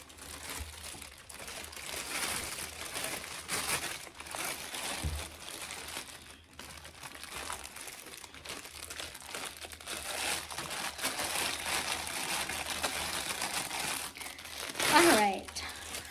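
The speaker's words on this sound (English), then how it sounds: "So, sorry for all the crinkling." Plastic wrapping crinkles and crunches steadily while an e-reading lamp is unboxed, close and continuous under a person talking, with a sharper rustle near the end.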